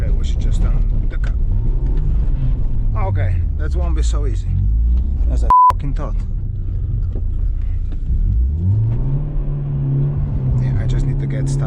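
A BMW E36 in snow gives off a low, steady engine drone with rising revs as the car is turned off-road, running under a man's speech and punctuated by a short beep.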